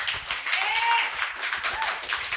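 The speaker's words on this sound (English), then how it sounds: "let's give them all a hand of applause again" Brief burst of audience clapping at a talk on Afrikaaps, a dense wash of hands with a faint voice or tone gliding through it.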